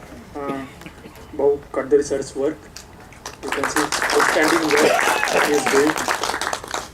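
Audience applause breaks out at an award ceremony during Foundation Day celebrations, a dense, steady wash of clapping that follows brief speech at the start and continues to the end.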